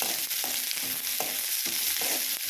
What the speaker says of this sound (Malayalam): ഇതൊന്ന് ഇളക്കി കൊടുക്കണം, ഇതൊന്ന് മിക്സ് ചെയ്ത് കൊടുക്കണം.